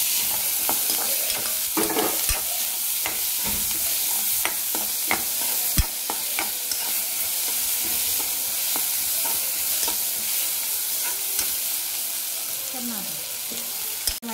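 Onion, garlic and freshly added tomato sizzle steadily in a hot pan for paneer chilli, with frequent clicks and scrapes of a spoon stirring throughout, close and continuous.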